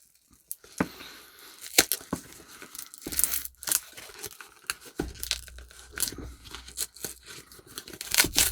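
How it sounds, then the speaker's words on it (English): Cardboard packaging for a Rolex Explorer 214270 watch being torn open by hand, a string of close, sharp ripping and crinkling bursts with short pauses between them. "Let's just tear it open."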